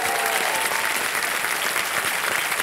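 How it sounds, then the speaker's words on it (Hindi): A game-show studio audience applauds steadily, many hands clapping together in a loud, sustained burst from start to finish. "तालियां बच जाने के लिए"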